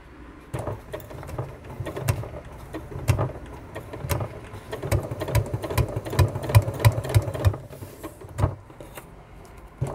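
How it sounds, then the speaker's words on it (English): Sewing machine stitching along fabric edged with piping, running in short close bursts with brief pauses as the seam is guided, no voices. "And carry on sewing."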